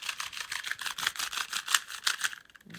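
A dry, stiff 2x2 puzzle cube clicks and clacks in quick successive turns, close and fairly quiet, with no voices over the rattling.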